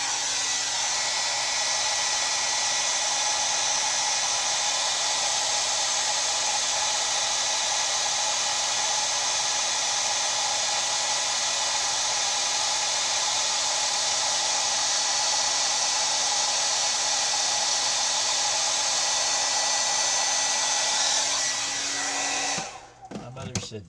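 A heat gun blows steadily and loudly up close, a constant rushing whir that runs unbroken for over twenty seconds before clicking off.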